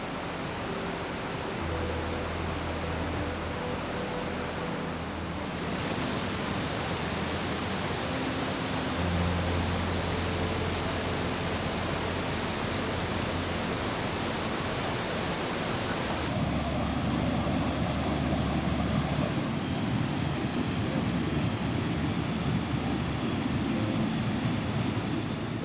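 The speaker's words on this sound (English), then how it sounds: "a 131-meter tall waterfall, the Devil's Punch Bowl Waterfall" The Devil's Punch Bowl Waterfall in New Zealand, 131 m tall, gives a steady broadband roar of falling water that keeps going without a break. The tone changes at two or three points.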